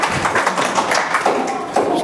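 A church congregation clapping along during a Spanish-language sermon, dense continuous hand claps filling a reverberant hall, loud and close.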